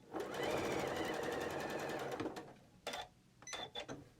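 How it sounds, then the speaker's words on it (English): A sewing machine stitches bias-cut fabric in a fast, steady whir for about two seconds, then short separate bursts follow as the machine starts and stops, close and clear. "going to sew it on this side because that's a bias cut and it's stretching"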